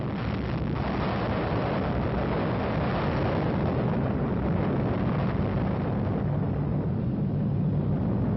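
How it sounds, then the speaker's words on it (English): Atomic bomb explosion from Operation Desert Rock military test footage: a sustained, heavy low rumble with a windy roar that fills the whole stretch, loud and continuous without any voice over it. "a first-hand introduction to an atomic bomb explosion"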